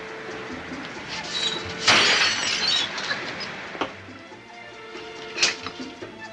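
Drinking glasses shatter after a toast: a bright, noisy crash of breaking glass followed by scattered tinkles and a later sharp clink, with no talking.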